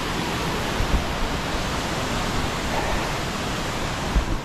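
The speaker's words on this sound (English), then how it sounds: "there's a waterfall that cascades down, splits off" Broadband rushing roar of a waterfall cascading down and splitting at Marshall's Falls, steady and loud throughout with no voices.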